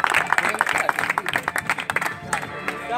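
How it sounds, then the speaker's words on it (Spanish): Crowd applause and cheering at an outdoor freestyle rap battle, a short burst of clapping mixed with shouts over a few seconds, fairly loud and close. "Un aplauso."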